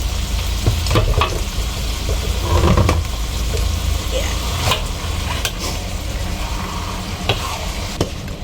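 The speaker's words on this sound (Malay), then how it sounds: "Kita masukkan daging." Beef pieces sizzling and frying in a pan for rendang, a steady loud hiss with occasional stirring scrapes throughout, close up and without talk.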